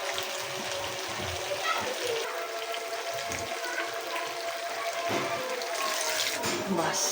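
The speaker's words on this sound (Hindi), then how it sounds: "बस इतना हम पानी ऐड करेंगे इसमें," Water pours steadily into a cooking pot of aloo ki katliya, a continuous splashing rush with faint sizzling underneath.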